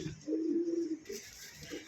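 A Kaldom pigeon gives a low, soft coo lasting under a second, followed by a quieter trailing coo nearby.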